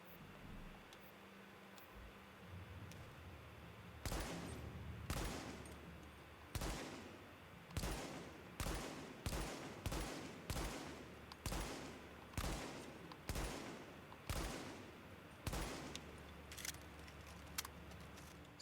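An Mk.20 rifle with all mods removed fires in The Division, about fifteen sharp single shots spaced roughly half a second to a second apart, each with a short decaying tail, loud against a quiet ambient background.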